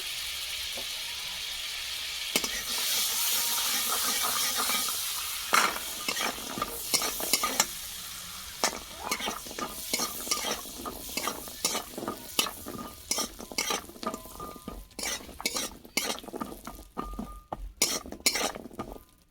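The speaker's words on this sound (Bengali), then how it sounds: "বাটা দিয়ে দিচ্ছি কাজু আর কিশমিশ ভেজে নেবো" Cashews and raisins fry in butter in a pan, a soft sizzle under repeated clinks and scrapes of a metal spoon stirring against the pan, growing busier and more rhythmic toward the end.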